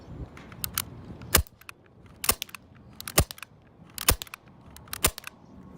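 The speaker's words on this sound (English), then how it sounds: "I'm gonna shoot about 4 or 5 shots here from 25 feet" Five sharp shots from a Red Jacket CO2 battle pistol fired at a 25-foot target, spaced roughly a second apart, each a crisp pop with faint clicks and mechanical noise between them.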